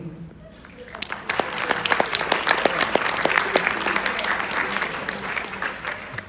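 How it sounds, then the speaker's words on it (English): Audience applause at a live stage show, starting softly and swelling after the first second into sustained, dense clapping that holds steady to the end. "Okay, let's give them all a big round of applause."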